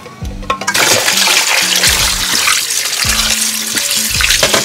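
Red kidney beans are rinsed under running water, a steady splashing rush with a few low knocks and clunks as the beans and pot shift, close and loud with no talking.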